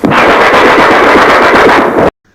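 A voice mimics rapid machine-gun fire, a loud, dense, unbroken rattling burst of mouth-made shots lasting about two seconds before stopping abruptly into silence.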